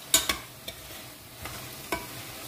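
Soya chunks stirred into a dill leaf pulao, with a few sharp spoon scrapes and clinks against the pot over a faint sizzle, close and brief.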